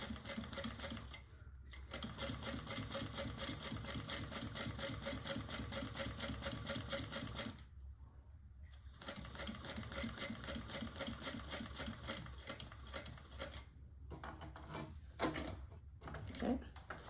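A sewing machine runs in long, fast, even bursts while stitching a bag, pausing briefly between runs before starting again, close and steady with no voices.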